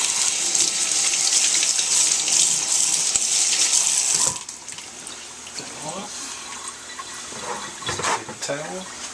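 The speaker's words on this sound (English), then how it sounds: "I'm going to give it a quick rinse with cold water." Cold water runs from a kitchen tap into a sink in a steady loud gush for about four seconds, then drops to softer splashing and trickling as something is rinsed, with faint talk.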